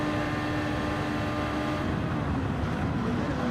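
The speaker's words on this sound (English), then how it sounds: "Shumi's car absolutely revving out to the max as he tries to slipstream Faz" A Gran Turismo 7 race car engine screams at high revs in a steady, loud drone while slipstreaming another car down a straight, with a constant harmonic whine and no other sounds over it.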